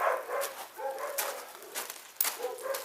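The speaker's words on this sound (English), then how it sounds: "want to step away from the door so the dog's not barking?" A dog barks and whimpers from behind a door at a home beside a golf course, coming in repeated short yips and barks at moderate distance through most of the stretch.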